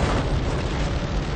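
In a Gears of War game, a gas station blows up with a heavy, rumbling boom. The roar is broad and loud, holding steady for over a second with no voices.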